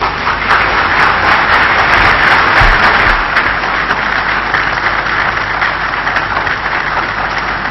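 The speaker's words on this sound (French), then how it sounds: "Voilà un discours applaudi par l'assistance" An audience of diplomats applauds the speech of Congolese president Félix Tshisekedi with loud, sustained clapping that fills the whole stretch as a dense, even wash, with no speech over it.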